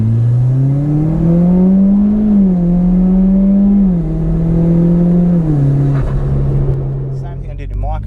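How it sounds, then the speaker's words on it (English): A Mitsubishi Evo X MR with an SST dual-clutch gearbox accelerates onto a motorway in second gear, its engine drone rising steadily in pitch, dipping briefly at shifts, then settling into a steady cruise hum inside the cabin. "Pulling onto the motorway, let's see how we go."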